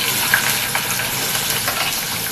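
Onions dropped into hot oil with fried fennel seeds, a steady loud sizzle and crackle of frying that holds evenly throughout with no talk.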